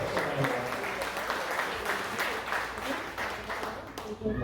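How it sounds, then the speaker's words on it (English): A happy-hour crowd at a Frisco Democratic Club gathering claps for the club's board members, a fairly quiet spread of applause mixed with chatter over a few seconds. "Please give a good round of applause for all these folks."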